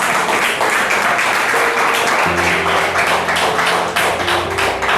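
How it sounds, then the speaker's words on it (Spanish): A church congregation applauding mothers' children during a Spanish-language sermon, a loud sustained patter of clapping with a low steady hum and faint tones underneath. "Dele un aplauso a cada uno de sus hijos"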